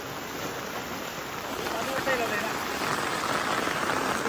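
Steady hiss of heavy monsoon rain falling on surfaces in the Konkan, continuous and even throughout, with no distinct breaks.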